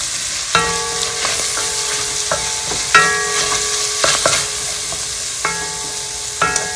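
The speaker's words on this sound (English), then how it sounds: "Give that a stir." Salmon pesto pasta with crushed pepper being stirred in a pan, with a steady sizzle under a spoon's scraping strokes and several sharp clinks against the pan.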